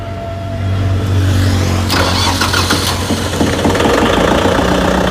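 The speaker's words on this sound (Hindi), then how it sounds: "तो दोस्तों अब जो है आपको ट्रैक्टर की आवाज़ सुनवाने वाले हैं" A Kubota tractor engine cranks and catches about two seconds in, then settles into a steady, loud, close diesel idle with a rough knocking chatter, after a low hum beforehand.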